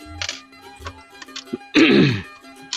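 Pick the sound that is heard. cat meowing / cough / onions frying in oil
cough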